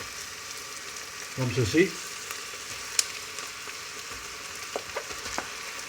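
Minced beef sizzles in a pan with onion, a burst of frying and stirring peaking briefly mid-clip, then settling into a low steady crackle while a person speaks briefly.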